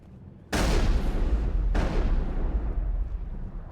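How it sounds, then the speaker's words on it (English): Two heavy gunshot blasts from Wrex firing in Mass Effect, each a sharp booming report followed by a long rumbling decay, about a second apart, loud and close. "So it was Rex shooting that was making that noise."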